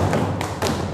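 A class clapping a rhythmic beat pattern together, with two firm, close claps a fraction of a second apart over a dull room background.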